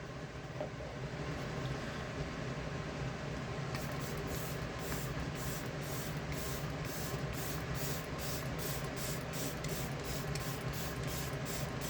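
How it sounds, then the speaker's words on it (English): A mist of LYS facial setting spray hits the face in a series of quick, evenly spaced spritzes, each a soft hiss heard close against a steady background noise. "I'm gonna spray my face. And I'm gonna use the LYS one."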